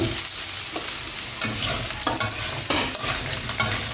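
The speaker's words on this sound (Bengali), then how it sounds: "আলুটা ভাজা হয়ে গেছে, এর মধ্যে পেঁপেগুলো দিয়ে দিচ্ছি।" Steady loud sizzling in a pan as papaya is added to fried potatoes and stirred around, with sharp scrapes of a utensil cutting through the frying noise.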